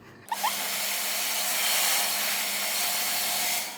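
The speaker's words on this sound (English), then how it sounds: "Basically turn off the heat setting on your hair dryer." Hair dryer running on high heat, switching on after a brief click and then blowing as a loud, steady whooshing hum that holds until it cuts off near the end.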